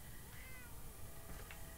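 A cat meows somewhere in the Fallout 4 game world, with faint, brief mewing calls that sit low in a steady background hum and are hard to pick out.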